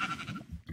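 A sheep in Minecraft gives one short, quiet bleat, heard alone and close.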